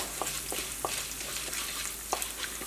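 Urad dal, chana dal, cumin and peppercorns dry-roasting in a pan give a steady soft sizzle, broken by several sharp scraping stirs of a spatula at irregular intervals.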